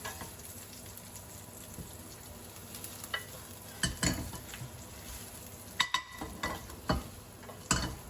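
Chili and garlic stir-fried in a hot pan, a close crackling sizzle under repeated sharp scrapes and clacks of a spatula against the pan, irregular and busy, with no talk.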